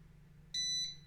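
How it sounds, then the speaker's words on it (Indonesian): An Arduino gas leak detector's buzzer alarm goes off once it senses gas, a single shrill electronic beep held for about half a second, sharp and clear over a low background hum. "maka dia secara otomatis akan menyalakan alarm dari buzzer, kemudian lampu juga akan ikut menyala"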